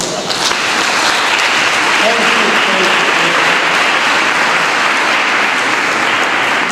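Loud, sustained audience applause at the South African Science Olympiads awards ceremony, a dense, even wash of clapping that swells at the start and carries on steadily throughout.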